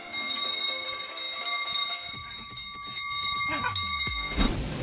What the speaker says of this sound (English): Why it doesn't need to ring the bell so badly remains a mystery, but it did it anyway.